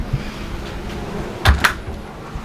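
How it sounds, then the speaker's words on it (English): A front door opening at home with a keypad lock, heard as a couple of quick close clunks and a click over quiet room tone. "Front door open."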